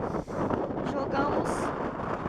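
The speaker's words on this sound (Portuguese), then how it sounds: "o vento tá aumentando, Fausto." A strong typhoon wind roars across a sailboat in Micronesia after the mainsail has been taken down. It is a loud, continuous buffeting rush against the microphone.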